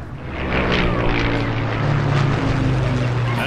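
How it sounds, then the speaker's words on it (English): Propeller airplanes drone overhead at a seaside air show in Lowestoft, a steady loud engine rumble that swells after the first half second and holds throughout, with no talk. "The planes continue to wow the crowds in Lowestoft."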